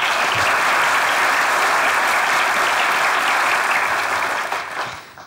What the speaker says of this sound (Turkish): Hamza'ya bir özel alkış istiyorum.